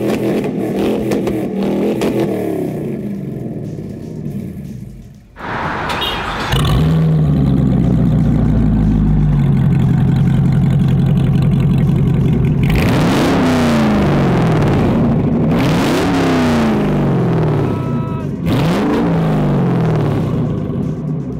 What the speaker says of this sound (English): it sounds to me, quite frankly, like a straight piped LS motor.